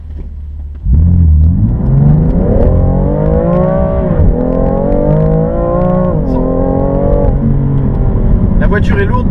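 A BMW M3 with manual gearbox launching hard from standstill, engine snarling up through rising revs with brief dips at gear changes, loud and close from inside the cabin.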